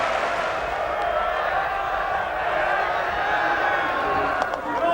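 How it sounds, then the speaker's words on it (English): Capacity crowd at Old Trafford cricket ground roaring and cheering after a quick fifty, a dense, sustained wall of crowd noise running steadily throughout with commentary voices mixed in. "And it's delighted this capacity crowd here at Old Trafford."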